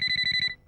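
A mobile phone ringtone sounds in a Telugu film comedy scene as a short burst of rapid, evenly pulsed electronic beeps, close and clear, that stops abruptly after about half a second.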